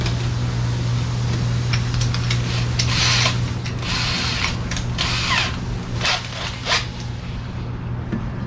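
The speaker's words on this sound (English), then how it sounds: "need to drill it, so we can tap it. This is a 7/16 drill bit" Power drill boring a 7/16 hole for tapping in an intake manifold, a steady loud whirring grind with a constant motor hum and shifting bursts of cutting noise throughout.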